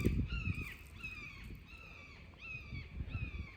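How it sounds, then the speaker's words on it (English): Series of harsh, descending bird calls attributed to a red-tailed hawk, heard outdoors in rural Chadds Ford, Pennsylvania; four or five screeching cries repeat at a steady pace, moderately distant, over low rustling wind noise. "I believe that was a red-tailed hawk."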